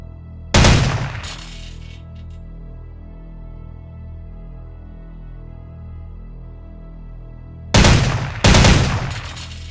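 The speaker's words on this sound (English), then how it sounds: "As with your M4, the OICW has single-shot, burst fire, and full auto firing modes." OICW rifle firing in Soldier of Fortune 2 on a range: a loud sharp burst near the start, then two more close bursts near the end, with a quiet tonal hum between.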